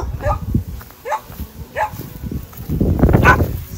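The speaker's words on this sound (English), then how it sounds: "Guard dogs." Several dogs bark in short bursts nearby, a few spaced yaps followed by a louder flurry of overlapping barks.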